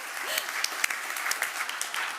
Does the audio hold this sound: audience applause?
yes